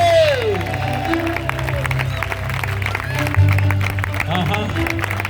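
A church congregation claps hands steadily throughout, a dense continuous patter under a loud preaching voice and background music.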